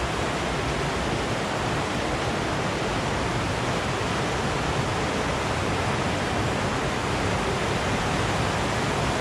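Creek water rushes over a creek crossing on a hiking trail, a steady, loud, close wash of broadband noise that runs unbroken throughout, with no voices.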